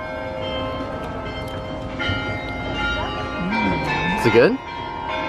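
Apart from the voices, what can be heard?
church bells tolling in the distance in Gdańsk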